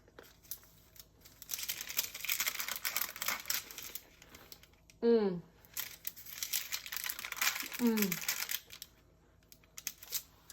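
Pumpkin spice baked treats are peeled off their paper, giving soft crinkling and tearing rustles in quiet bursts, with two brief squeaky sweeps partway through.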